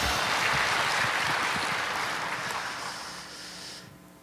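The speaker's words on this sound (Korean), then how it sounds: "우리 박수로 하나님께 영광 돌립니다" Congregation clapping together during a Korean church worship service, a dense steady wash of applause that slowly fades out after about four seconds.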